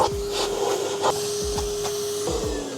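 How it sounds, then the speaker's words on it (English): Henry vacuum cleaner hoovering out a car interior, a steady close motor drone with repeated scraping strokes and rubbing of the nozzle across surfaces, no talking. "So I think I'm going to start with hoovering the car out."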